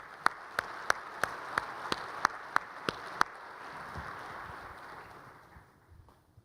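An audience at the Money20/20 hackathon welcomes the winners with a wash of applause punctuated by a steady run of loud rhythmic claps, which stop and let the clapping fade out.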